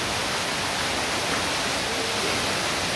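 Water flows steadily nearby, a broad, even rush like a stream or small fall, loud and unbroken with no voices.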